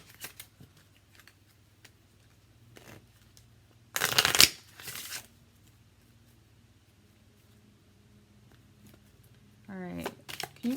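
A Romance Angels oracle card deck is shuffled in a quick, crisp riffle burst, followed by a second shorter flutter of cards near the end, against an otherwise quiet room.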